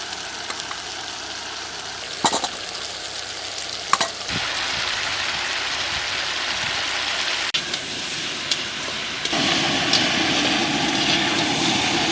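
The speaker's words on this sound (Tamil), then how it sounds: "தக்காளி வெங்காயம் எல்லாம் நல்லா வதங்கிடுச்சு." Tomatoes and onions fry in oil in a large pan for a home-style fish curry cooked for thirty, with a steady close broadband sizzle throughout, a few sharp clinks of a spoon or ladle, and the sizzle growing louder near the end.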